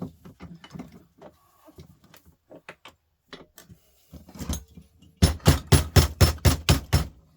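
A hammer drives a chisel into a Morphy Richards steam iron, breaking it apart to reach the copper inside. Scattered light taps and scrapes lead into a rapid run of about eight loud, close blows.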